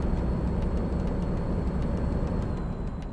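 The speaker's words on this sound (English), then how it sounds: "The truck's quite loud." A truck engine in American Truck Simulator gives a loud, steady rumbling drone. The noise is broadband and continuous, without clear gear changes, and no one speaks over it.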